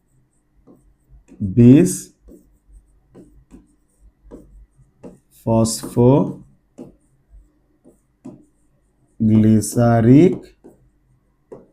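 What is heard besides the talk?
writing chemistry formula on board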